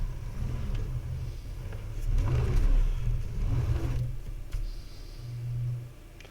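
Heavy truck engine brake in the American Truck Simulator video game, a low droning engine rumble that swells and eases in waves, steady and close without talk.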